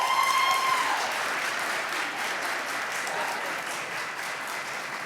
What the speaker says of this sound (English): Let's give all three of our competitors another round of applause, please.